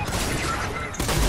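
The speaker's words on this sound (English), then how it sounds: "he headshot me with a shotgun" Shotgun fire in the Fortnite video game: a dense, noisy blast of gunfire that swells again near the end of the short burst, close and loud with no speech.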